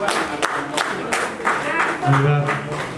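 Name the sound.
audience applauding the vice-chairman at a meeting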